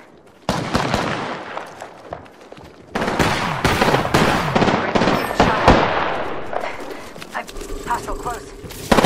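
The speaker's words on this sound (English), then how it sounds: "The enemies are shooting at me." Enemy gunfire in Apex Legends crackles in rapid, sharp bursts and scattered shots at varying distances, with a voice speaking over parts of the fighting.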